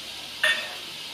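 Water poured into hot Kashmiri red chilli and garam masala gives a short burst of sizzling, one brief hiss that rises and fades quickly in a quiet kitchen during bell pepper curry cooking.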